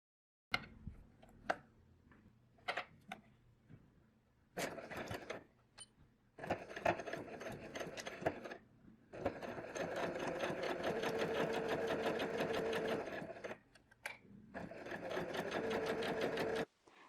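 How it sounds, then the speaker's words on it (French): Sewing machine stitching a false hem in a corner: short starts and stops with clicks and needle taps give way to long steady runs of fast whirring stitching, close and clear with no talk. "Je couds donc à 1 cm de valeur couture."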